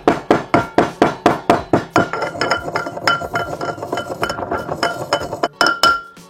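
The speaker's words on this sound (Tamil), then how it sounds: "கால் தேக்கரண்டி ஓமம், 2ஐயும் சேர்த்து கொஞ்சம் நல்லா இடித்து வச்சுக்கொள்வோம்" Ajwain and cumin seeds pounded in a mortar and pestle for samosa dough, a run of sharp, evenly spaced metallic clinks that start fast and loud, then turn into quicker, lighter tapping, close by with no talking.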